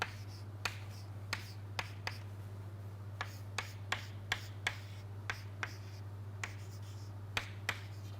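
Writing by hand, a series of sharp, sparse ticking taps of a pen or marker against a surface at irregular intervals, faint and close, over a steady low electrical hum.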